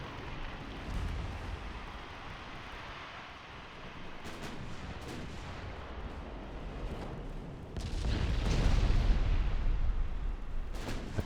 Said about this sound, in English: There are the torpedoes.